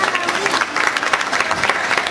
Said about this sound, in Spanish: fuerte el aplauso para los nominados